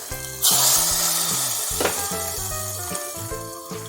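A sudden loud hissing sizzle bursts out as hot oil with popped mustard seeds hits a cucumber and raw mango curry, then slowly settles into a steady crackle over a low background tone.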